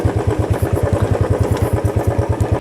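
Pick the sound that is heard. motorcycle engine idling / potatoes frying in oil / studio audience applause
motorcycle engine idling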